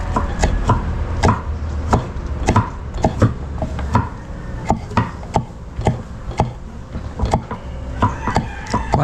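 Repeated sharp knife chops on a cutting board while preparing food for a Christmas party, an irregular but steady rhythm, close and fairly loud.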